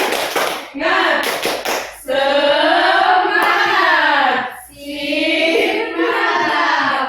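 A school class does a rhythmic spirit-clapping chant, with sharp group claps at the start followed by loud, sustained voices chanting together in unison across several phrases.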